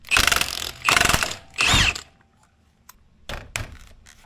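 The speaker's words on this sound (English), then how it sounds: "the easiest way is to use an impact like this, or you can just use a breaker bar. We're just gonna hit it real quick here" Three loud, close bursts of a pneumatic impact wrench hammering on the steering wheel bolt of a 1997-2006 Jeep Wrangler TJ, each about half a second long, followed by quieter clicks and two shorter mechanical rattles.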